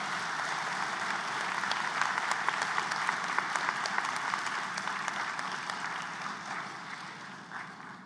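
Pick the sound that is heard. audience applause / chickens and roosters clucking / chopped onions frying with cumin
audience applause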